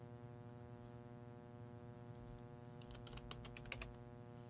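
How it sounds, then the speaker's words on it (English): A short burst of keyboard typing, several quick close clicks near the end, over a steady low electrical hum. "Oh, maybe I just have to type in blast."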